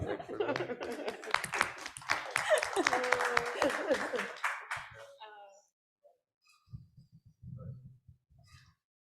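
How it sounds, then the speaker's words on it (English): Brief scattered clapping and light laughter from a small group at a leadership talk, mixed with talking, then fading into quiet with a few soft voices. "can we get a little clap?"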